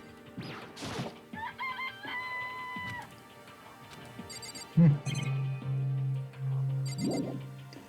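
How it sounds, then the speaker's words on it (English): Chickens in the Danganronpa video game cluck and a rooster crows, with a few bright bursts, a sharp knock and sustained crowing calls near the end. "This place even has chickens."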